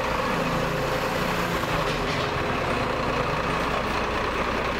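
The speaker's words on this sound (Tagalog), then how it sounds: "Dumarating na truck." A garbage truck rumbles in on a residential street, its heavy engine steady and fairly close, with a faint hiss partway through that could be brakes and no voices over it.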